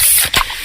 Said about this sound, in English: Oh yeah, that's the sound of a freshly opened fizz-filled Pepsi.